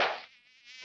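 A cartoon mosquito drones in a thin, high whine that swells loud, dips faint as if flying off, then surges back close, all within a second.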